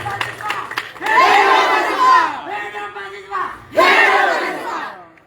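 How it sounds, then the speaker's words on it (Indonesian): A large community crowd at a regent's public gathering cheers and shouts in loud bursts, with scattered clapping at the start. The roaring swells twice, with a brief dip between them. "Sekali lagi kita berikan apresiasi untuk tepuk tangan Ibu dong."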